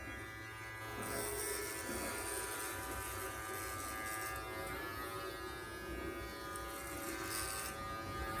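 Electric clippers running across a head of hair, a steady nearby buzz that rises in loudness as the blades meet the hair and carries on throughout without speech.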